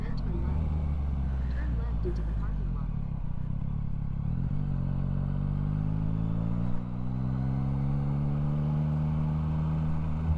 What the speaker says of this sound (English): Oh, another group of motorcycles